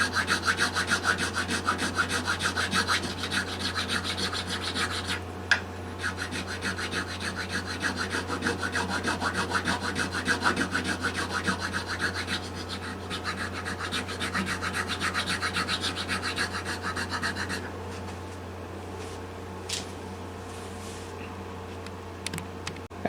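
A StewMac nut and saddle file with a rough, rasp-like cut scrapes steadily on a guitar strap button. The quick, even strokes run close and continuous for about twenty seconds, then ease to a lighter rubbing.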